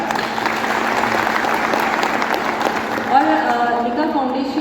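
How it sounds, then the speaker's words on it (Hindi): Audience applause at a foundation event in Nagpur, dense clapping throughout, with a voice speaking over the final second or so. "आप सबके लिए जोरदार तालियां हो जाए एक बार"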